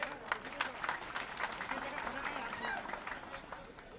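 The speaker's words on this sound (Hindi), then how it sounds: "मैं सभी से आग्रह करता हूं कि माननीय मुख्यमंत्री जी का ताली बजाकर स्वागत करेंगे।" A crowd at a BJP public rally in Alirajpur claps to welcome the Chief Minister, a continuous, fairly distant patter of many hands.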